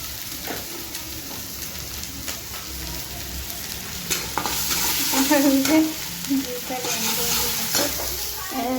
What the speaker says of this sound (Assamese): এইফালে মাছৰ কণীখিনি দিছোঁ